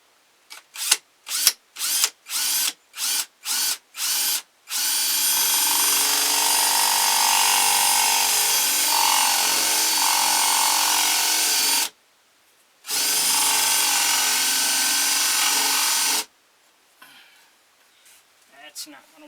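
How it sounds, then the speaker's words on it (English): A power drill fitted with a 1-inch bit bores into wood for a carved ventriloquist figure. It starts with a series of short trigger pulses, then runs in two long, steady whines, close and loud, with a brief break between them. "I'm going to use this 1-inch drill bit here,"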